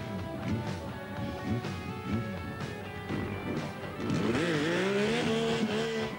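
Kawasaki Z1300 motorcycle accelerating hard toward 120 mph, its engine note climbing repeatedly through the gears and then holding a loud, sustained high whine, heard close with no one talking.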